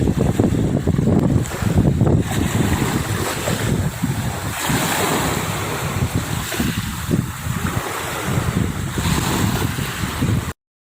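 Ocean waves wash steadily onto the sea shore near fishing boats at a town called Gilman, loud and close, with heavy wind buffeting the microphone throughout.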